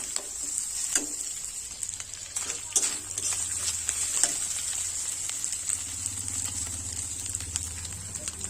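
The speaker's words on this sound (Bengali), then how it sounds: "খুব ভালোভাবে নাড়াচাড়া করে মাছের মাথা আর মশলা কষাই করে নেব" Fish head frying in a pan with spices, a steady close sizzle with repeated scraping clicks of stirring throughout, a low hum underneath.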